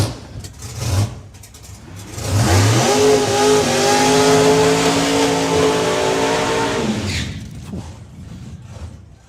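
A drag racing car launches at full throttle at the FIA/FIM Euro Finals, a loud roaring engine that swells and holds for several seconds, then fades as the car pulls away, with crowd noise before and after.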